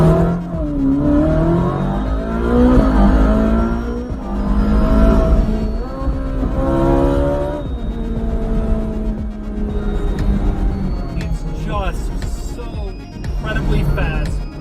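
A Ferrari 458 Speciale A pulls away from a stoplight, its engine rising through rapid revving pitch sweeps and gear changes, loud and close, with someone talking over parts of it.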